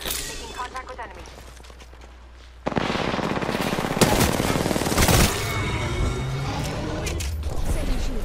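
Gunfire in a video game firefight. After a quieter start with talking, a loud burst of rapid automatic fire breaks in and keeps going with sharp individual shots, and voices can be heard under the shooting.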